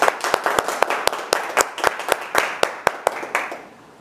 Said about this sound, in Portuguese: Fernando Rocha, uma salva de palmas, Fernando Rocha.